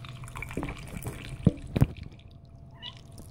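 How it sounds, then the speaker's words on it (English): Fluoride-free water being squeezed out and dripping, a few wet splashy drops and trickles with two sharper plops close by, fairly quiet overall. "See how much water, how much good, pure, fluoride-free water I can get out of this."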